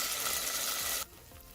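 Ginger garlic paste sizzling hard as it is mixed in hot oil in a pan, a loud bright hiss that cuts off abruptly near the end, leaving a quieter low sizzle.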